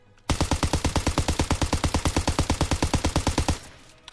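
Rapid automatic gunfire from a weapon in Call of Duty WW2 multiplayer, a steady burst of roughly thirty evenly spaced loud shots lasting about three seconds, then cutting off into quiet background.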